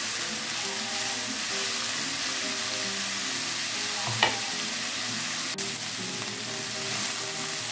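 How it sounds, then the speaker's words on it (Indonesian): Chayote stir-fries in a pan until wilted, with a strong continuous sizzle, a sharp utensil knock midway and a brief click later. "Kita tumis sampai layu."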